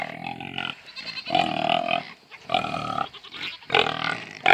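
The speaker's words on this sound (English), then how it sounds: "Check out the pigs." Pigs on a farm grunt and squeal loudly and close by in several bursts, joined by what may be goats or sheep bleating, with no talking heard.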